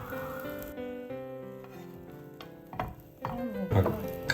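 Sticky rice cakes (ciba) fry over low heat in a pan, a soft steady sizzle with a few louder crackles and pops near the end, close by with no talking.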